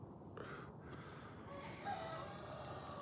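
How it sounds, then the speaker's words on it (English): Chickens on a farm in the early morning, with a rooster crowing faintly in the distance over steady low background noise and a few soft clucks. "hear the chickens? Chickens. Cock-a-doodle-doo, it's morning time."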